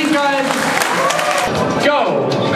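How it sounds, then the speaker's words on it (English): An audience at a 2006 robotics competition applauding and cheering, steady clapping and crowd noise mixed with voices and a talking announcer throughout. "Big round of applause for these guys."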